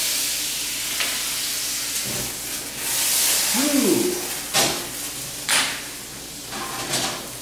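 Brandy poured into a hot cooking pan, a soft steady sizzle and hiss with a few sharp bursts and a brief rising whoosh partway through, close and moderately loud with no talking.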